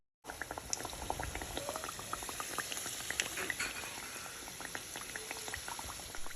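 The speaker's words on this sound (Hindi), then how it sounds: "और ये देखें फिर ना मैं ये अब फ्राई कर लूँगी" Samosas frying in hot oil give a dense, continuous bubbling crackle with many small pops, close and even throughout, no voices.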